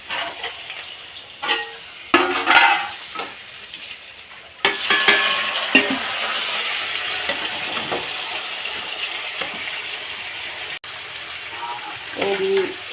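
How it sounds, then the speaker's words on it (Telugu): Spices tempering in hot oil for dal khichdi in a busy home kitchen, a steady sizzle and fry with bursts as ingredients hit the pan, plus clinks of utensils against cookware. "ఇటు దాల్ కిచిడికి పోపేస్తున్నా"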